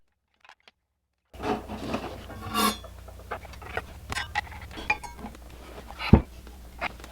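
A 24-tooth carbide blade being fitted onto a RIDGID Octane brushless 18V cordless circular saw, heard as scattered close clicks, metallic clinks and handling knocks, with one sharp thump near the end.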